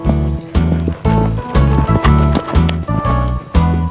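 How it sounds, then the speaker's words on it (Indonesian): Hooves of a running horse on a horse farm clip-clop in a steady, loud galloping rhythm, with a tonal musical layer underneath. "Aku suka melihat kuda berlari."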